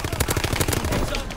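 A submachine gun fires a rapid, unbroken automatic burst in Call of Duty: WWII, loud and close, each shot crackling in quick succession for about a second and a half.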